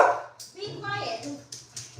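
Dogs in the house, waiting to go out on a harness walk, yip and bark in short bursts close by while someone talks over them.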